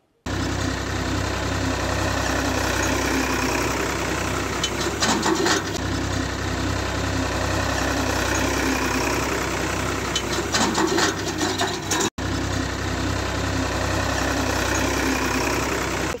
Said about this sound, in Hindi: अब वो वहाँ में ट्रैक्टर चला रहे